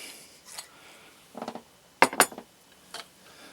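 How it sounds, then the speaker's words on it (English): An empty glass bottle is set down on a hard surface in a quiet room, giving a couple of sharp, close glassy clinks with soft knocks just before and after. "an empty glass bottle,"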